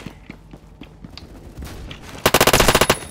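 Short-barrel AR rifle fire in a shooter video game bursts loud and rapid near the end, a fast string of sharp close shots after scattered quieter game noise and footsteps.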